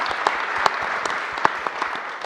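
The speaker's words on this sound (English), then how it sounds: "I welcome you to give our panelists a round of applause" A room full of attendees at a remote and extreme environment medicine panel claps for the panelists, dense steady applause with a few louder claps standing out, no voices over it.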